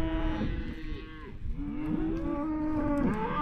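A Mashona bull with horns moos out in a pasture, a long, deep, wavering bellow followed by further drawn-out lowing calls, moderately close and alone without talk.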